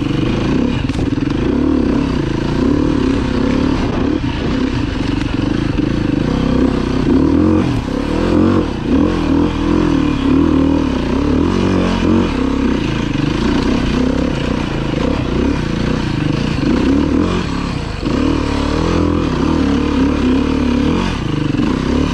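A 390 dirt bike accelerating along a slick trail, its engine loud and close, revving continuously with rising and falling throttle and no break in the noise.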